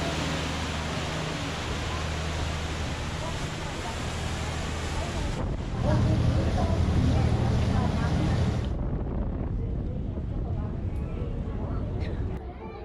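Strong wind roars and buffets across the deck of a pirate-style sightseeing boat on Lake Ashi in volcanic Hakone. The gusting is continuous and loud over a low rumble from the boat, and it swells briefly midway.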